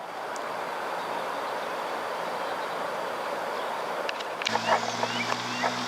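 A Long Island Rail Road train rushes westward over the Locust Avenue grade crossing in West Sayville, heard as a broad steady rumble of rolling wheels and rail noise, with a tonal horn or crossing-bell sound and clattering toward the end.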